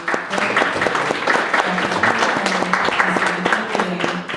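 An audience at a student program at Jackson State breaks into a steady round of applause, dense clapping holding evenly for several seconds with a few voices mixed in.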